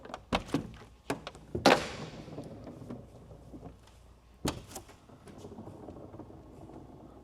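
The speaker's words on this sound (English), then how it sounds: "we have to open the Gullwing doors because that's what everybody loves" Mercedes W194 gullwing doors opening with several close, sharp thunks and latch clicks, followed by a soft swing and a settling thud, in a quiet space.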